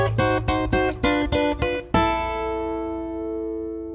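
Six plucked guitar notes, the two 5s on the first two strings, ring out in an even rhythm, followed by a brighter strummed pair that sustains and slowly fades, in a blues turnaround.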